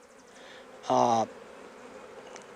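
A honey bee buzzes loudly and close by while nucs are made from frames, one brief, droning burst rising over a faint background hum of the colony.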